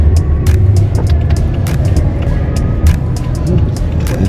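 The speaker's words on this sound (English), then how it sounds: "Traffic." Road traffic in the city of Orlando, heard from inside a moving car: a steady, loud low rumble with repeated brief swishes and clicks from passing vehicles, and no talking.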